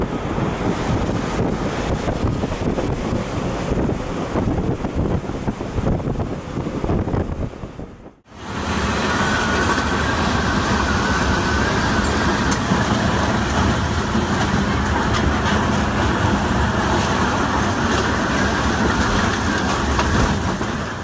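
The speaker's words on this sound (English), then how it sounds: "This is what a moderate storm in the severe northern seas looks like." A moderate storm in severe northern seas, with waves around three metres high around a boat: loud, steady wind roar buffets the microphone over heavy rushing surf, broken by one brief dropout before the roar resumes.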